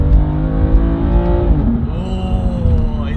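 A new sports car's engine in M1 mode revs and accelerates hard, loud and close, with rising harmonic engine tones, a brief dip near the midpoint as it shifts, then climbing again with some tire noise.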